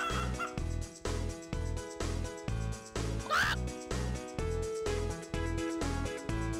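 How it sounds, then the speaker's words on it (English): Chickens clucking in the Wii game Bob the Builder: Festival of Fun, repeated clucks over a loud, steady, pulsing game music loop with a regular beat. "The chickens want the pizza."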